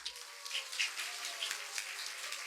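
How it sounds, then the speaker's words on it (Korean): Audience at a supporters' evening event in a hall applauding a journalist being introduced, soft, even clapping heard from a distance. "많은 박수 부탁드립니다"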